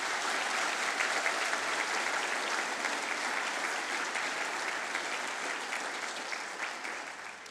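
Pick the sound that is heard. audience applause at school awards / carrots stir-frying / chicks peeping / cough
audience applause at school awards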